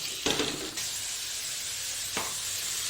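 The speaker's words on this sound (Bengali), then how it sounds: "কড়াইতে সাদা তেল দেওয়া হয়েছে দেওয়ার পরে এই যে পেঁয়াজ দিচ্ছি" Onion frying in white oil in a wok for chicken egg chowmein, a steady close sizzle with bursts of louder hissing crackle as pieces go in and are moved, no voices.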